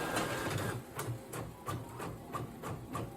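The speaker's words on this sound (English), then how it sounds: "My printer prints on the bottom of the paper" A home printer feeds a sheet backed with wax paper while printing a decal image, a steady rhythmic run of mechanical passes and soft clicks, close and fairly quiet.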